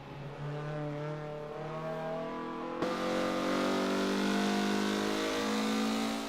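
A Mazda MX-5's engine revs hard and continuously, rising in pitch with a sharp step up partway through, loud and close with a raspy, aggressive tone and no talking.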